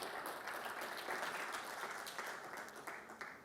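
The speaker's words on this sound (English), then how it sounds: "Let's give them all a round of applause" A crowd applauding steadily, a dense wash of clapping that holds through and fades slightly toward the end.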